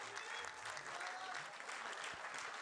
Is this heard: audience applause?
yes